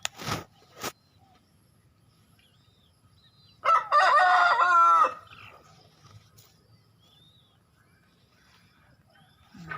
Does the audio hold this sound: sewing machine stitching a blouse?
no